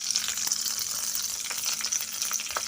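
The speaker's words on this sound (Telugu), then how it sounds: "అలాగే ఆవాలు జీలకర్ర ఇంకా కరివేపాకు కూడా ఇప్పుడే వేసేసుకుందాం" Mustard seeds, cumin and curry leaves sizzle and crackle in hot oil while tempering for a prasadam dish, a steady close hiss with scattered pops throughout and no voices.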